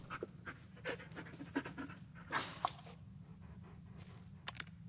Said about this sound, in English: Let's just pet the dog, because he's doing a good job